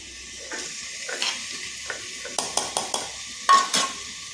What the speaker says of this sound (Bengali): এগুলো আমি শিলনোড়ায় বেটে নিচ্ছি।